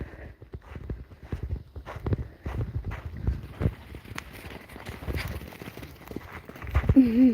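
Sheep walking across ground outdoors, a patter of uneven hoof steps close by with a faint bleat near the end.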